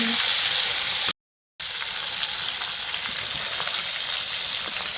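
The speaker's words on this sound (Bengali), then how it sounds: "লিভার ভাজা হয়ে গেছে এবার উঠে নিচ্ছে" Liver fries in a kadai (karahi) over a stove flame for liver khasta biryani, giving a loud, close, continuous sizzling hiss. The hiss cuts to a brief silent gap, then carries on steadily with no voices.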